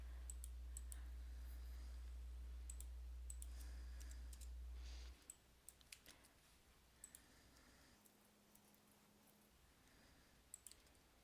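A computer mouse clicking during desktop work, with sparse, sharp, faint clicks scattered irregularly over a quiet background; a low hum drops away partway through.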